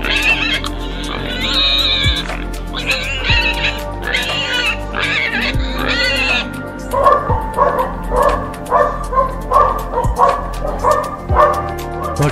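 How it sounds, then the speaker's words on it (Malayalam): A dog barking loudly and close in a rapid run of sharp barks and yips, then a steady rhythmic series of barks over a constant background hum. "പട്ടിയുടെ ശാസ്ത്രീയ നാമം കാനസ് ലൂപസ് ഫെമിലേറിയസ്."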